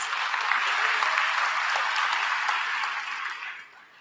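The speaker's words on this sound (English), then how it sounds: "Let's give them a round of applause in their absence." Sustained applause from an audience at a regional conference public meeting, dense and steady for about three seconds before tapering off at the end.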